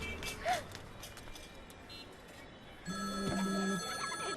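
A telephone rings in a film scene: the first half is quiet room ambience, then a steady electronic ring starts about two thirds through and continues to the end, with faint background voices.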